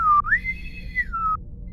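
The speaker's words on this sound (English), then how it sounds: "they blow the bosun's whistle" A bosun's whistle piped for a boarding honor party on a starship, a single clear shrill call that dips low, rises to a long sustained high note, then drops back down and stops.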